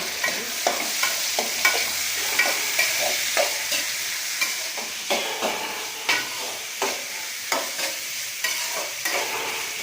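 Onion and tomato sauté in a pan for Kumbakonam-style sambar rice, with a spatula scraping in a steady rhythm of repeated strokes over a continuous gentle sizzle.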